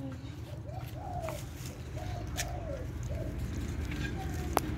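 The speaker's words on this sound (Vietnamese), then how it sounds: "rồi đây là con vẹt ngực hồng một năm." A one-year-old pink-breasted mutant parrot gives several short, soft whistled calls in a loose series over a low background hum, followed by a single sharp click near the end.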